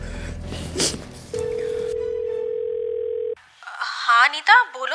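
A steady telephone dial tone hums alone for about two seconds as a call is placed, preceded and followed by speech.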